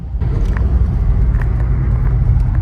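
Turbocharged Nissan Stagea GTR wagon engine droning loud and steady from inside the car, a dense low rumble with faint turbo whistles flickering over it, no talk.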